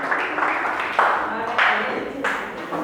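Group clapping in a classroom, a short burst of hand claps in uneven bunches mixed with voices, fairly close and moderate in loudness.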